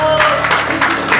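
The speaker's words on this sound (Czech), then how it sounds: "Pojďme zatleskat Bohu." A church congregation claps together in a dense, steady round of applause, close and fairly loud, with a voice speaking over it.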